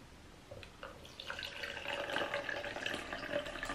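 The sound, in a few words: pouring distilled water into a measuring cup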